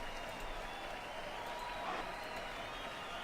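A wrestling arena crowd roars and applauds during a live AEW Dynamite broadcast, a dense, steady wash of cheering heard from a distance with no single voice standing out.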